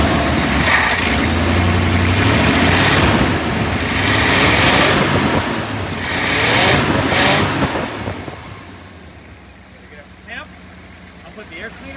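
A 1956 Ford Thunderbird V8 with a rebuilt fuel pump cranks and runs loudly up close for several seconds, then dies away to quiet, with people talking over and after it.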